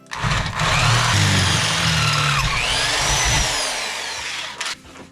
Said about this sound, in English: I'm going to drill a hole in either end and dress up the end of these a little bit just to make them nice and neat